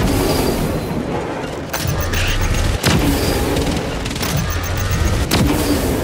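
Heavy, booming rocket explosions rumble one after another over a constant roar of noise in the video game Warhammer 40K: Space Marine 2, with a few sharp impacts standing out.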